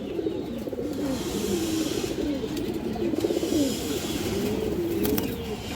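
A female snake-eyed Gorra pigeon coos in a series of soft, rolling, repeated phrases, close by over a faint hiss of background noise.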